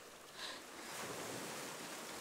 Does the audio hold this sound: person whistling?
no